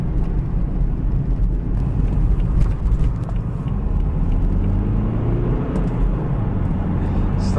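A steady low diesel engine drone with road rumble from inside a moving 2012 BMW 320d (F30), continuous and fairly loud throughout.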